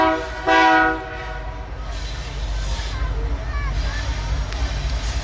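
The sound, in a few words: freight train approaching on railway line in Mexico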